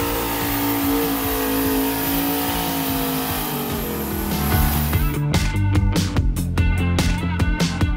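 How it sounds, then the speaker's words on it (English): A twin-turbo AMC Pacer does a tire burnout in a parking lot, its engine roaring loud and steady, then breaking into rapid rhythmic revving pulses as the tires spin, close and alone with no talk. "Once the pink tires were completely burned to the ground"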